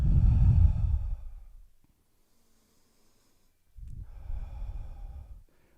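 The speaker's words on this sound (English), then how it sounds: "Take nice deep inhale. Take about 3 inhales, 3 exhales." Deep yoga breathing during a shoulder stretch, two long breaths close to the microphone, a breathy rush separated by a few seconds of near silence.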